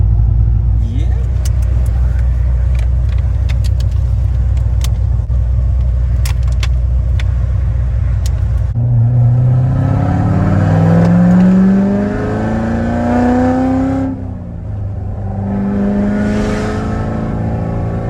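An 870 whp C7 Corvette Z06 rumbles at idle with a deep throb, then pulls away and accelerates hard through rising, howling revs with gear changes, loud and close from inside the car as people talk over it.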